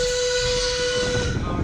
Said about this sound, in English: Enjoy the train ride.